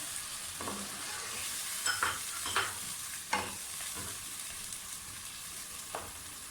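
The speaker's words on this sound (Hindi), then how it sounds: "अब इसमें थोड़ा सा पानी डाल के इसको ढक के रख दें।" Water goes into a pan of fried masala and meat for a bottle gourd and mutton curry, giving a steady hiss and bubbling with a few spoon scrapes and knocks, moderately close, with no speech.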